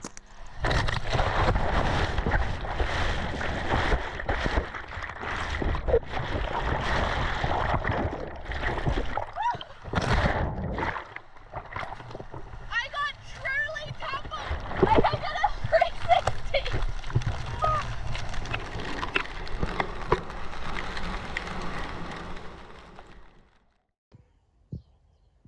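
Ocean waves crash and wash on a New Zealand beach during wave jumping, a steady loud roar of surf and splashing that runs on continuously and fades out at the very end, with voices and shouts mixed in.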